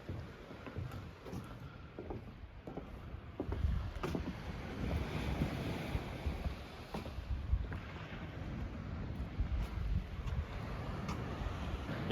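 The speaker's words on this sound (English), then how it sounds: "you can listen to the sounds of the ocean" Wind and ocean waves at a beach by Fort Macon State Park in Atlantic Beach, North Carolina: a steady broad wash of surf under gusty microphone wind, continuous and moderately loud, with no talk.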